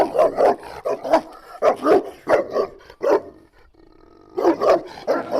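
A large Alabai (Central Asian Shepherd) male dog on a farm barks repeatedly in deep, rapid bursts up close, pauses briefly, then resumes barking loudly.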